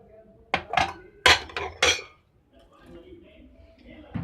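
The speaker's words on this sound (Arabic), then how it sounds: "هحط الاطباق الصغيره الاول" Small plates clatter and clink as they are set into the rack of a Fresh dishwasher, four sharp close knocks of dish on dish followed by quieter rattling and faint handling.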